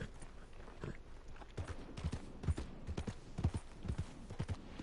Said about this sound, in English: Wait, was that his horse?